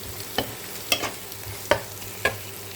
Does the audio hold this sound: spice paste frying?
yes